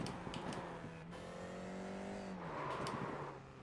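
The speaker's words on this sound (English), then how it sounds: "F4 car at Monza." An F4 race car engine at Monza in a racing simulator game, a sustained engine whine that climbs and falls through gear changes, steady and fairly loud, with no talking.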